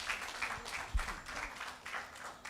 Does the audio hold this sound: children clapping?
yes